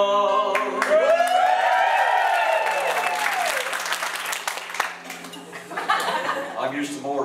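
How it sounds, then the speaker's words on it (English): Live studio audience applauding at a Dublin breakfast radio show, steady clapping with a few chuckles rising and fading over several seconds, with a singer's voice and music partly underneath. "applause."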